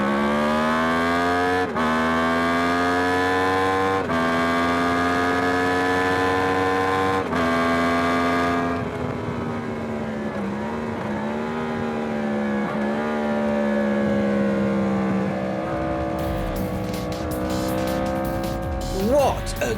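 A Yamaha MT-10 motorcycle revs hard through its exhaust, climbing several times in loud, close, rising howls separated by brief gaps, then settling into a lower, wavering engine note before a sharper flurry at the end.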